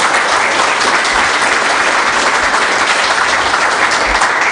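Sustained audience applause at the close of a technical conference talk on Ceph storage, a steady dense wash of clapping from a full room, loud and unbroken from start to finish.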